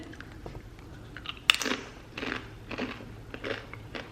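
Crunchy bites and chewing of tortilla chips with Greek yogurt dip, a sharp crunch followed by several softer, close crunching chews spread irregularly across the moment.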